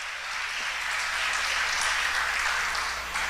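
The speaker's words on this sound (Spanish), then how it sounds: "dale un aplauso al Señor" Congregation clapping in a church, a dense, even wash of applause heard from some distance, steady throughout with no talking on top.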